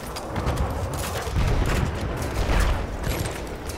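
Gunfire from the Battlefield 1 video game, a dense and continuous rattle of shots and distant booms that layer into a loud, steady wash of combat noise without any clear breaks.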